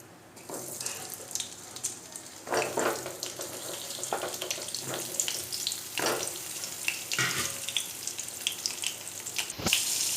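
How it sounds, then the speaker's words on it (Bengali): Pointed gourd (potol) fries in a little oil with turmeric, giving a steady close sizzle. Repeated bursts of spitting and crackle come as the pieces are moved and turned. "হলুদ দিয়ে এবার পটলগুলোকে ভেজে নেবো"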